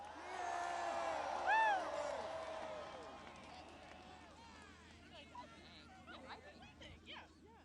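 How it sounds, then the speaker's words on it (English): Large outdoor crowd murmuring and calling out at the Groundhog Day celebration in Punxsutawney, Pennsylvania, a steady hubbub of many distant voices with a brief louder shout near the start. "the largest crowd in the history of Groundhog Day"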